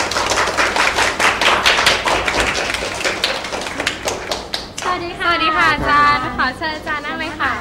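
A room full of people claps for a teacher during a Thai live talk programme, a dense, steady burst of applause lasting several seconds before a voice takes over.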